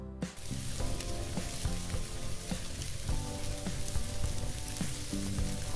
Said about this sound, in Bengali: তাই ওই 2 উল্টানোতে আমি মাছ ভাজা শেষ করব